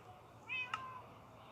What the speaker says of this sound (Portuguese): Eu vi um gato miando